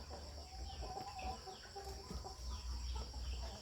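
Young Burmese fighting chickens cluck softly and intermittently at a distance, faint against a steady low hum.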